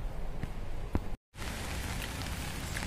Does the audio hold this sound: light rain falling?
yes